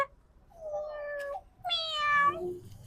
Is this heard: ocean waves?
no